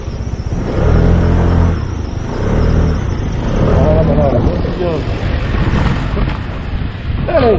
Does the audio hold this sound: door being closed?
no